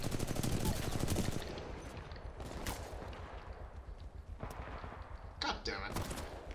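Rapid automatic gunfire crackles through a Titanfall 2 firefight, loud and dense at first, then continuing as scattered bursts and sharp single shots, with voices talking over the shooting.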